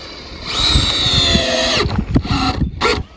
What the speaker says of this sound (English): So I'm just screwing those together so that it'll hold the post.